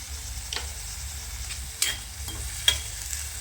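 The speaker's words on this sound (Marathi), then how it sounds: "आता ही भिजू घातलेली डाळ टाकू. आणि हा हिंग टाकू." Soaked lentils and asafoetida fry with onion in a pan, a soft steady sizzle broken by a few sharp clicks of a spoon stirring against the pan.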